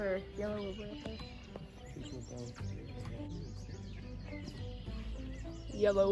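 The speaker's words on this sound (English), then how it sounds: "Or yellow warbler up there." A yellow warbler sings at Magee Marsh, with short bright chirps and whistled phrases scattered over a busy outdoor background of distant people and rustling.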